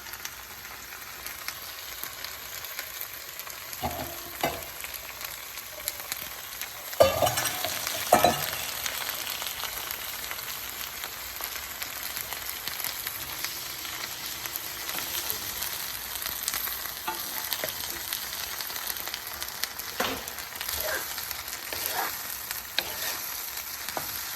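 Green chillies sautéing in a pan for chilli thokku, an even, quiet crackling sizzle throughout, with occasional louder scrapes and stirs of a ladle, especially around the middle.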